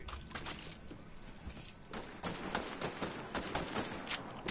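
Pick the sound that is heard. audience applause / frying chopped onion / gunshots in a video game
gunshots in a video game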